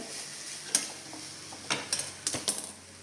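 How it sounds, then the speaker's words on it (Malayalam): Grated coconut being stirred in ghee in a pan, heard as a few faint scrapes and light metallic taps from a spoon over a quiet background. "നമ്മുടെ തേങ്ങ നെയ്ക്കകത്തിട്ട് ഒന്ന് ചെറുതായിട്ടൊന്ന് മൂപ്പിച്ചെന്ന് പറഞ്ഞാൽ"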